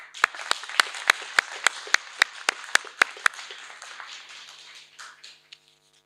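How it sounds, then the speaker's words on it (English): Graduation ceremony audience clapping for the Lord Mayor of Manchester: a dozen sharp, evenly spaced claps ring out near and loud, then thin into scattered lighter clapping that fades away. "So I'd like to give him a round of applause."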